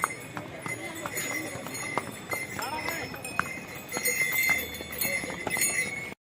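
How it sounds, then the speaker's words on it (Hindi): Horse hooves clip-clop steadily on a mountain trail during a pony ride on the Kedarnath pilgrimage route, with scattered clicks and background chatter of riders and handlers. "हम अब घोड़े की सवारी कर रहे हैं"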